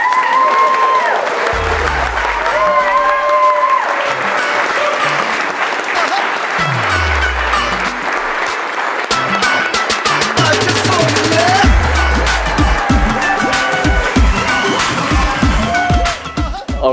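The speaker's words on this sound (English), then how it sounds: "I think that deserves a round of applause." Wedding guests at Offley Place Country House Hotel break into a sustained round of applause just after the vows, with loud cheers and whoops rising over dense, close clapping that runs throughout.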